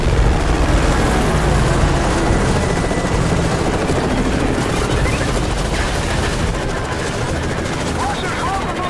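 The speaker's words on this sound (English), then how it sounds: "Russians, welcome from the choppers!" Helicopters arrive in Call of Duty: Modern Warfare 3 as a dense, loud roar of rotor wash mixed with bursts of gunfire throughout, with some battlefield voices.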